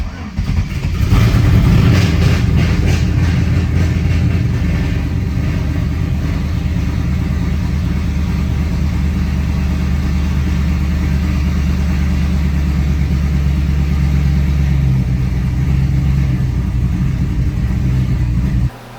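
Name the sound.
truck engine running after repair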